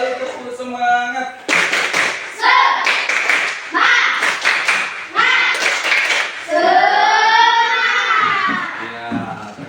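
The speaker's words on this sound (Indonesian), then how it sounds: "Satu kali lagi, 2 kali tepuk semangat" A classroom group does a rhythmic spirit clap as an icebreaker in an online maths lesson, with loud bursts of clapping and children shouting, under a teacher's voice.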